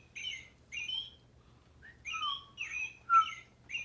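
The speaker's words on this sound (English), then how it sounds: "Robin. Robin redbreast." A robin redbreast sings alone in quiet surroundings, a series of short clear whistled phrases and trills with brief pauses between them, moderately near and faint.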